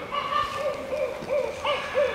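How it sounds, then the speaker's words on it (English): A kookaburra calls outdoors with a run of rising, hooting, laughing notes in rhythmic bursts, moderately distant and steady under a faint background hiss, without any talking. "I've got a kookaburra laughing at me."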